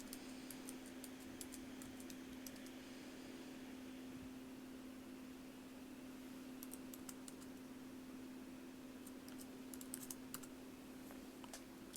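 Quick bursts of keystrokes on a computer keyboard as a short caption is typed, with light clicking clustered near the start and again later, faint and close over a steady electrical hum, no speech.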